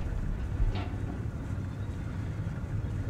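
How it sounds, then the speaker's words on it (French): Low rumbling tank engine drone in the video game War Thunder, with a heavy mechanical hum, steady and fairly loud, like vehicles idling or approaching nearby. "Alors j'entends des moteurs qui arrivent."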